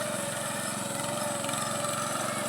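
A rice harvesting machine cutting a paddy crop in a wet field, its engine giving a steady, loud mid-pitched drone with a faint rhythmic chatter from the cutting mechanism, continuous and close throughout.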